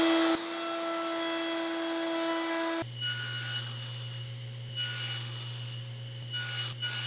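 Woodworking router fitted with a 1/8 inch radius roundover bit rounding the edges of loose tenon stock: a steady high motor whine, then a lower hum with bursts of cutting noise as the bit meets the wood, fairly close.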